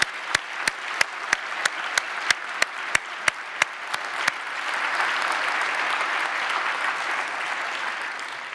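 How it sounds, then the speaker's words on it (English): A conference audience gives applause for volunteers and professionals. It begins with a run of loud, evenly spaced single claps close by, then swells into a sustained wash of crowd clapping that carries on to the end. "So, applause to the volunteers and the professionals."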